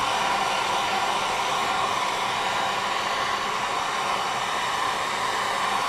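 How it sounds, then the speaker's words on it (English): A heat gun warms a part on a Peugeot 406 SRi 2.0 turbo car, blowing a loud, steady, close airy roar with no breaks. "Just going to heat it with a heat gun."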